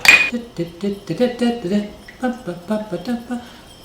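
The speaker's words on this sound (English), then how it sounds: "Whisk the egg together with the wet ingredients." A whisk clinks rhythmically against a glass bowl while beating an egg into melted butter and wet ingredients for Thanksgiving cornbread dressing, about a dozen quick, bright taps in a steady pattern, close and clear.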